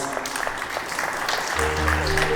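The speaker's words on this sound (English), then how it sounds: "give them a great big round of applause" Applause at a wedding reception for the bride and her father, a steady patter of clapping that gives way to music starting up partway through.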